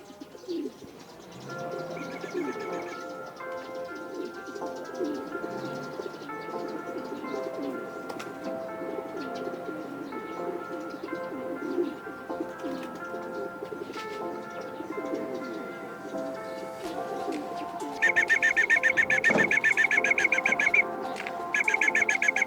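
Racing pigeons coo in soft, repeated murmurs close by, with occasional chirps and a brief flutter of wings, ending in a brighter burst of calls.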